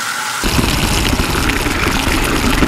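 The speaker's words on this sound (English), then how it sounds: "Get some warm water in there." Warm water gushing from a tap into a sink, starting abruptly and then running as a steady, loud, close rush.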